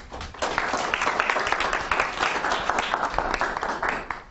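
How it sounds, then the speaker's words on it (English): An audience applauds a business pitch presentation, a dense, steady burst of many hands clapping close by for several seconds, with faint voices mixed in. "Everybody's applauding."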